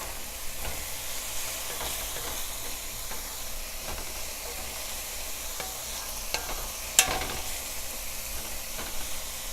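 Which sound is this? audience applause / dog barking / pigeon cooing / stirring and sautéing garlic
stirring and sautéing garlic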